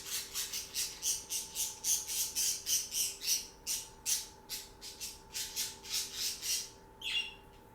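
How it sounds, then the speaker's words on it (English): Outdoor birds give rapid, evenly repeated chirping calls in a steady rhythm, fairly close and clear, over a faint constant hum, ending in a brief rattling call. "I don't know if you guys can hear the bird frequencies now that I have the headphones on"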